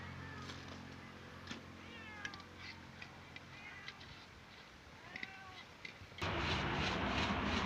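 A cat meows repeatedly in short rising calls over a steady background hum, then a loud broadband rush of noise takes over near the end.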